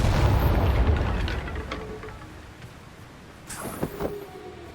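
A Confringo blasting spell explosion in the video game Hogwarts Legacy: a heavy boom that opens loud and rumbles away slowly, followed by a second, sharper burst of crackling impacts near the end.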